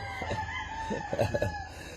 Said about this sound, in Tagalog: Dadalhin na po itong inyong manok.